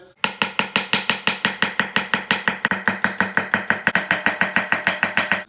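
A knife chops peppers on a cutting board in a steady, fast rhythm of sharp, even strikes, about five or six per second, loud and close with no talking.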